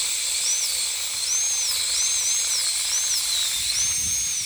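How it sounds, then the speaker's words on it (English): Dental drill with a carbide burr making depth cuts in a tooth during a crown prep, a steady high-pitched whine that dips and rises in pitch as it bites, close and continuous. "now we're going to make some depth cuts out the buccal and palatal as well"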